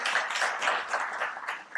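Audience applause greeting a guest, Zineb Bouayed, director general of Mouawab, at an evening event; a short, steady burst of dense clapping with no voices over it.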